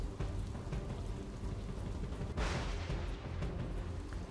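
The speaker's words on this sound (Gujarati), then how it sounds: "અવિરત પડી રહેલો વરસાદ" Incessant rain falling on flooded Surat city, a steady broadband roar of downpour with a sudden louder burst midway, continuous and close, no speech.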